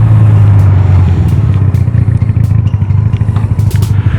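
A Honda Rebel 250 motorcycle runs close and loud, its low engine note rising and dipping as the throttle blips for rev matching, with some mechanical clatter over the steady rumble.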